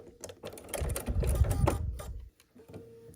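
A sewing machine stitching quilt block pieces runs in a close, steady mechanical whir for under two seconds, then stops, followed by faint handling clicks.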